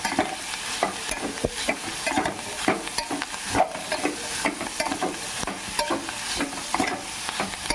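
A handful of coriander leaves fries in a pan for a ridge gourd chutney, stirred with repeated scraping strokes in an even rhythm over a constant sizzle, close and moderately loud.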